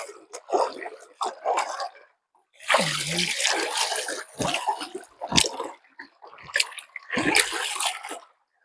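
Water splashing in a river while someone bathes, with irregular close bursts of sloshing and churning separated by brief quiet gaps, no talking.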